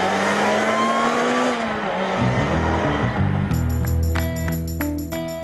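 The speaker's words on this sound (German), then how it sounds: "Vierzylindermotor, Kompressor unterstützt aus dem Hause, nein, nicht Lotus, sondern Toyota." A Lotus 2-Eleven with a supercharged Toyota four-cylinder engine driving hard, loud and near, its engine note rising and falling through shifts, with a brief tire squeal.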